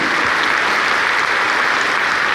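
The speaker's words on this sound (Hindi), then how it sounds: "तालियां होनी चाहिए" Dense, steady applause from a crowd at a tribute event, loud and continuous throughout with no pauses.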